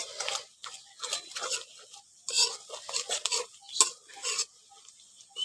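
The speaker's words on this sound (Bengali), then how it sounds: "ওগুলো দিয়ে ভালো করে একটু নাড়াচাড়া করে পেঁয়াজটাকে একটু ভালো করে ভেজে নিচ্ছি" Onion being stirred and fried with chili, cumin and turmeric powders for an egg omelette curry, a spoon scraping the pan in short irregular bursts with faint sizzling between.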